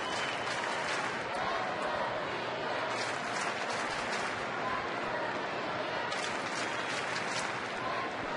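Baseball crowd at a stadium cheering and clapping throughout, a dense steady roar of applause with scattered whistles and shouts, no words spoken.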